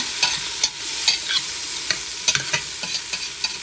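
Tomatoes and onions sautéing in a pan for a mussel soup, a loud close sizzle broken by repeated spatula scrapes and taps as they are stirred, with no speech.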